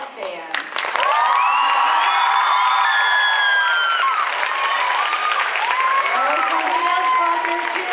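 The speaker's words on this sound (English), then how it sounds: "Someone else brought their cheering section." A school audience gives loud, continuous applause with cheers, whoops and shrill whistles for the John T. Baker Middle School jazz band at a music showcase festival. The crowd noise fills the whole stretch.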